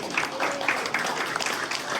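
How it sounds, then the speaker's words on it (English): A crowd at a political party's Christmas and post-election celebration applauds the candidates, a short burst of continuous clapping with a few sharper claps standing out. "All right, so we give a wonderful round of applause to these wonderful candidates."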